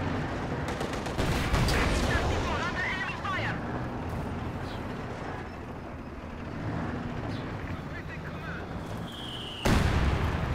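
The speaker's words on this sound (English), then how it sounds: "heavy mortar at close range" Heavy mortar fire in Company of Heroes 2, a 1v1 match on the Frost map, with booming impacts and crackling battle noise throughout under continuous game sounds, a sharp loud burst near the end.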